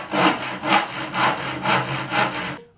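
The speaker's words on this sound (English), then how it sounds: "What I'm gonna do is make that extra little saw cut again, just to start it with a handsaw." A handsaw cuts a starter groove into pallet wood, about six rhythmic back-and-forth rasping strokes, close and fairly loud, ending abruptly.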